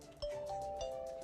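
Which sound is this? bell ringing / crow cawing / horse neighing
bell ringing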